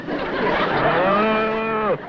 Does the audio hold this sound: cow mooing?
yes